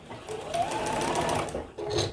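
Domestic sewing machine stitching Christmas tree quilt blocks into rows, a steady close whirring run for about a second and a half, a short pause, then another burst of stitching.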